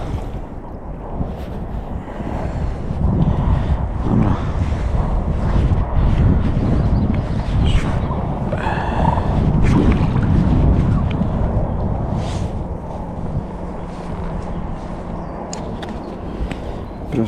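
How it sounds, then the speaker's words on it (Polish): Steady wind roars and buffets the microphone on a lake during pike fishing, with a low rumble like water and a boat beneath it. "teraz wiatr nam przeszkadza troszkę"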